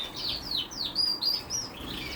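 Small caged birds chirp while eating feed, giving a quick series of high, thin tweets close by over a soft background hum, with no voices.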